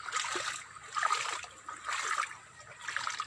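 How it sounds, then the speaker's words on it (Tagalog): A small, clean creek trickles and burbles nearby, its soft watery wash rising and falling in gentle surges, with no talking. "nandito po kami ngayon sa tabing sapa. Malinis po yung sapa."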